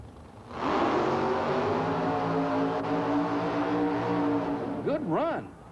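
Point Blank pickup-bodied monster truck with tall raised exhaust stacks, roaring through a loud sustained run at a 1990 USHRA arena event in Oklahoma City, ending in rising and falling revs, with an announcer talking over the engine.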